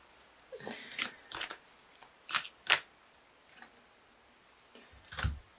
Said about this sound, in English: I'm going to quickly pull a Wild Kuan Yin Oracle card for my dear Libras